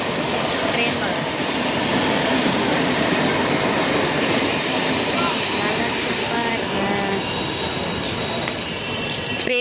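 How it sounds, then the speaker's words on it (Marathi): A passing train rumbles loudly and steadily at close range for the whole stretch, a dense continuous roar with a faint rhythmic clatter of wheels on the rails. "ट्रेन बघा."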